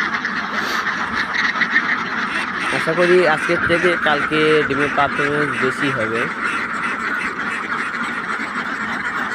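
Tethered farmyard ducks give a short run of nasal quacks in the middle of the clip, heard under and between someone talking nearby.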